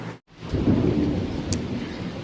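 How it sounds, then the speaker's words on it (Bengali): Rumbling thunder rolls over steady rain falling in big drops, a loud low swell after a brief silence, continuing under the patter of the rain. "বৃষ্টি এসে গেছে, একটু বড় বড় ফোঁটা পড়ছে আর কি। আর মেঘের গর্জন শুনতে পাচ্ছ তোমরা?"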